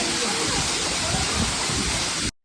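Katiki waterfall in Araku pours down with strong pressure, a loud, steady, close roar of falling water filling the whole moment without a break.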